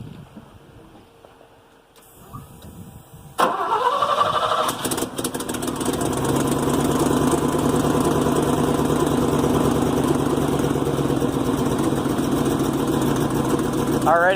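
A truck engine cranks and catches, then runs with a repaired muffler in a rough, steady idle, loud and close. A voice speaks briefly over the running engine.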